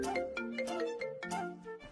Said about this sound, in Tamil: என்னங்க என்னங்க உங்களுக்கு ஃபோன் வருது பாருங்க.